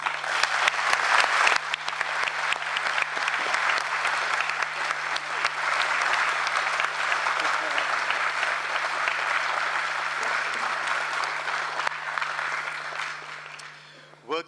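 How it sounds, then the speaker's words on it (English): Warm, sustained applause fills a plenary session hall of the World Heritage Committee in Phnom Penh, steady clapping that fades toward the end, with a low constant hum underneath. "I would like that we all give her a warm round of applause"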